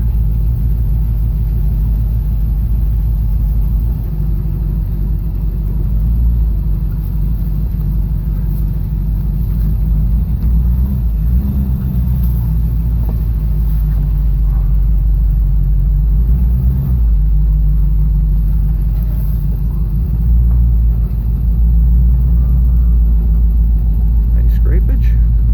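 A 1968 Ford Mustang convertible, revived after sitting 30 years, drives under its own power with the top down on a snowy winter day, its steady low engine rumble continuous and close throughout.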